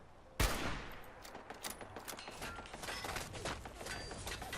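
Gunfire in the Fallout 4 video game: a single loud, sharp shot opens, followed by a dense, continuous rattle of rapid distant shots and clatter running throughout.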